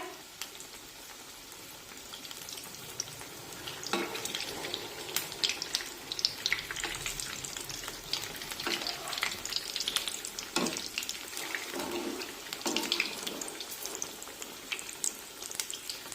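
Bread rolls fry steadily in hot oil, giving a continuous dense sizzle with crackling bursts and a few clinks of a utensil, with no talking.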